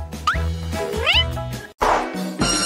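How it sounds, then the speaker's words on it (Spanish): A kitten gives several rising, high-pitched meows, close and clear, with a voice talking between the cries. "¡Qué hermoso gatito!"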